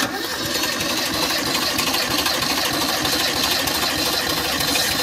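A 1984 Toyota Starlet's 1.3-litre carbureted pushrod engine with distributor ignition, held at full throttle, giving a loud, steady, rapid mechanical clatter and drone up close with no talk.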